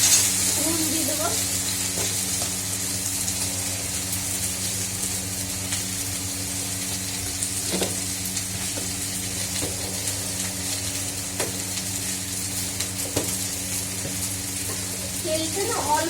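Food frying in oil in a pan gives a continuous close sizzle for the whole stretch, with occasional faint clicks and a soft voice now and then in the background.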